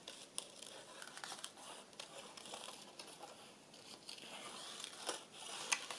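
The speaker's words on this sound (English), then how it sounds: "especially when there's lots of things to cut out" Scissors work their way around paper shapes cut from junk mail, giving soft, close snips and crinkles in an uneven rhythm with no speech.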